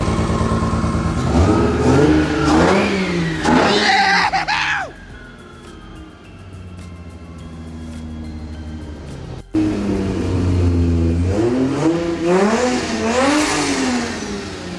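A Barra-swapped car engine, just repaired after cam trouble, revs hard several times, rising and falling in pitch, then settles to a lower idle before revving loudly again.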